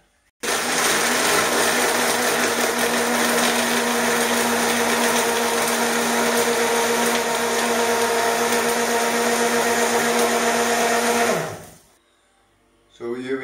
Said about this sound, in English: Put the lid on, ready for the blender.